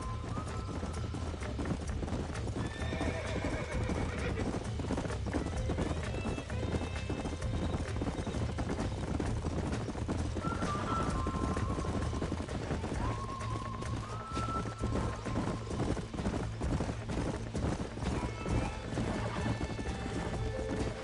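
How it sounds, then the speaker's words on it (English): Horses trot on a ranch in the Red Dead Redemption video game, a steady clip-clop of hooves throughout with occasional whinnies and neighs rising above, alongside low game ambience and quiet voices. "These are fine horses."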